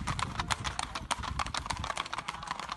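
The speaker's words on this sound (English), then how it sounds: "The horses are afraid, so they went up the hill." Horses' hooves clip-clop in a steady, busy rhythm as the frightened animals move up a hill, close and continuous, with faint background noise.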